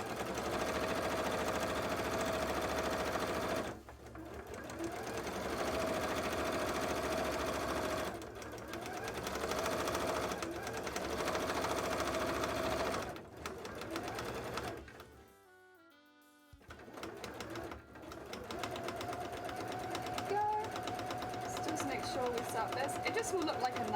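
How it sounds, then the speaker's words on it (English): A sewing machine stitches gold trim onto a cosplay leg, whirring steadily in long runs with brief pauses and one near-silent gap, while a person talks over it. "So we will sew up like this."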